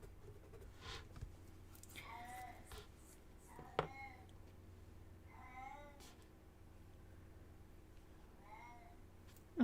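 A house cat meows several times with clear rising and falling cries, close and moderately loud, during a quiet indoor coloring session with faint scribbling in the background.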